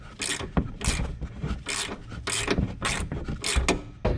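A ratchet turning fasteners while an aftermarket Skull Krushers inner fender is installed on a Jeep Wrangler, giving a series of close, rhythmic rasping clicks in repeated bursts with brief pauses between strokes.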